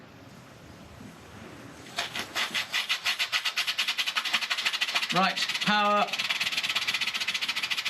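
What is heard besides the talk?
Stirlingkit model steam beam engine running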